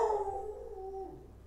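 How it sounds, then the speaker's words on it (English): An upset dog gives a single drawn-out howl that slowly falls in pitch and fades, heard from a short distance indoors with no talking. "I apologize for my dog."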